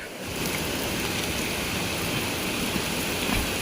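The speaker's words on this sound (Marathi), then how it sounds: "पाण्यात थेंब पडत आहेत पावसाचे मोठे मोठे" Heavy rain with big drops falling into a stream in a village outdoors, a steady dense hiss and patter that stays constant and loud throughout, no voices.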